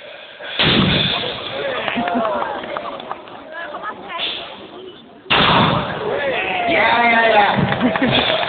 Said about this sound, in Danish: Det var jo næsten en helt salve, vi fyrede i der